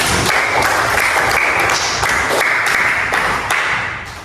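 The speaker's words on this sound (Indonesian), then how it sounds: "Kasih tepuk tangan buat Dira." Schoolchildren in a classroom clap for a classmate, loud, close, brisk clapping filling the whole moment before tapering off at the end.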